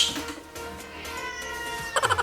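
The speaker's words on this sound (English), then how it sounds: "my cat is meow meow" A female cat in heat meows indoors, a drawn-out, wavering cry over the room, with a louder burst of mewing near the end.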